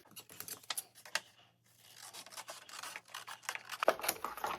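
Paper being trimmed for a signature page pocket, with quiet scratchy snips and cutting strokes close by, a short pause midway, then more rustling and handling of the page.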